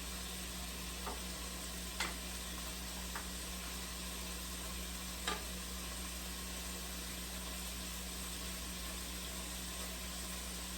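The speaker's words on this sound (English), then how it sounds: "our sausage is going, our sauce is simmering over here" Sausage frying in a pan on a home stove, a steady faint sizzle with a continuous low hum, broken by a few soft clicks and knocks of utensils.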